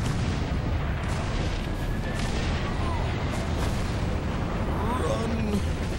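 Booming cannon fire from a turret in the Space Marine video game, heavy blasts over a dense wash of battle noise with whooshing streaks and some sweeping tones, continuous and loud.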